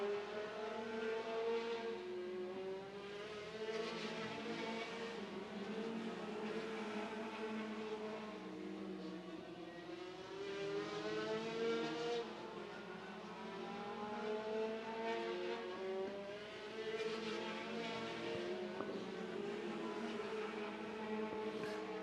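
A pack of midget race cars circles a speedway on a Saturday afternoon, engines rising and falling in repeated waves as they pass, distant and fairly faint.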